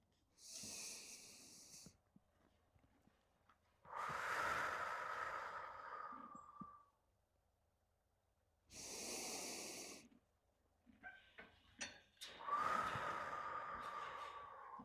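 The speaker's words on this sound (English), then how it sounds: "you can tell that even the horses were picking up off that as well, because of how Comanche blew out some tension then as well" A horse blows out air in long breathy snorts, several separate exhalations that are close and fairly soft, with pauses of quiet between them.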